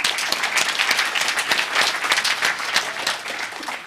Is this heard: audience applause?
yes